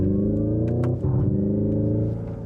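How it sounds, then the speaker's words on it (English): Hyundai IONIQ 5 electric car playing its simulated combustion engine sound, a dark, gruff, steady drone that swells in a rev partway through, close and loud with no talking. "instantly you get this dark, gruff engine tone"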